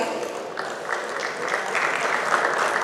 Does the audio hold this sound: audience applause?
yes